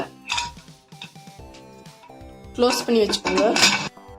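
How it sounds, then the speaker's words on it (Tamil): A metal pressure cooker lid clanks and clinks shut in a home kitchen during cake baking, several short metallic knocks close to the microphone, with a voice talking alongside. "சேர்த்துட்டு குக்கரை க்ளோஸ் பண்ணி வச்சுக்கோங்க"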